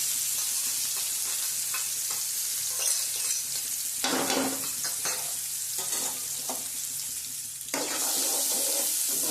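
Onion frying in hot oil with mustard seeds and a pinch of asafoetida for a Gujarati kantola curry, a steady close sizzle with stirring scrapes and bursts of louder crackle throughout.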